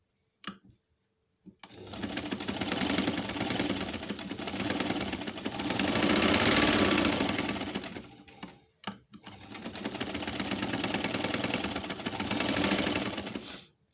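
A sewing machine stitches a cushion cover in two long bursts of rapid, even clatter, with a short pause between them and a brief stop near the start.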